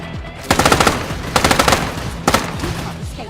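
Rapid automatic gunfire from the Stirnova video game rattles out in three quick bursts of several shots each, loud and close, with no talk.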